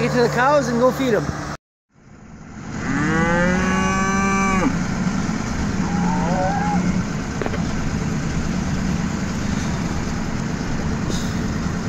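Cattle in a snowy pasture moo loudly at feeding time, with one long drawn-out call standing out near the start, over a steady engine rumble from a farm vehicle hauling a bale trailer.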